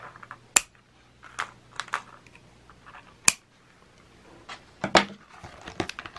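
Scissors snip elastic cord for a B6 traveler's notebook, giving several sharp, close clicks and snips spaced irregularly with quiet handling rustles between them.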